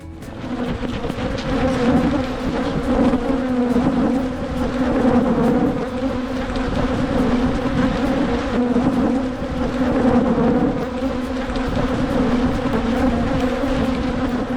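Honey bees swarm around their hives in a loud, dense, steady buzz that never lets up, with no voices over it.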